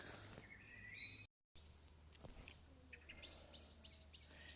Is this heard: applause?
no